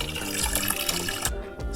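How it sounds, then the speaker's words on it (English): Water gushes steadily from a tap into barrels on an old farm, a loud close rushing fill that cuts off abruptly near the end. "I'm refilling our barrels with water because we don't have enough"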